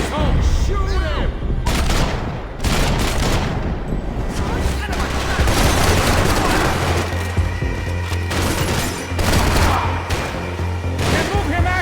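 Heavy gunfire in a Max Payne 3 cutscene: sustained, loud bursts of shots and booms run throughout, with shouting voices breaking in over the shooting.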